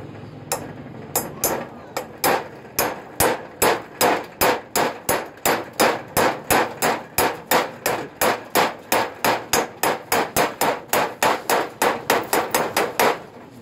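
Hammer blows drive an old bearing race onto a ring and pinion gear part: about thirty sharp metallic strikes in a fast, even rhythm, close and loud.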